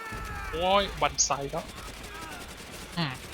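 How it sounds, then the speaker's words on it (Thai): Sniper fire in Call of Duty: World at War: a few sharp gunshot cracks spaced about a second apart, mixed with shouted voices over low battle noise. "Sniper fire!"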